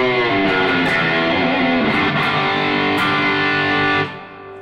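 Distorted electric guitar through a Yamaha THR10X amp with reverb and delay plays loud, sustained ringing chords for about four seconds before cutting off into a brief reverberant tail.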